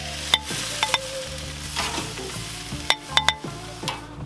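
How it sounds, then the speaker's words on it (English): A steak sizzles on a hot Monument grill, a steady frying hiss broken by a few sharp clanks and scrapes from tongs or the grate, heard up close with no talking. "And we're gonna grill this steak."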